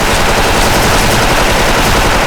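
Continuous M4A1 rifle fire in a video game, a loud, dense burst of rapid automatic shots lasting the whole moment with no pause and no talking.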